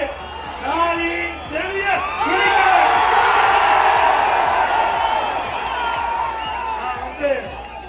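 Large crowd cheering, whooping and shouting at a welcome rally in Panruti for a political leader, a loud sustained roar with scattered hand claps and voices that swell near the middle and carry on throughout.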